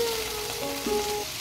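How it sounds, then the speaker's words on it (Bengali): Pieces of hog plum (amra) fry in oil tempered with spices, producing a short, steady close sizzle with a faint tonal hum over it. "এবার এই ফোড়নের মধ্যে দিয়ে দিচ্ছি আগে থেকে কেটে রাখা আমড়াগুলো ফোড়নের মধ্যে কিছুক্ষণ ভেজে নিচ্ছি"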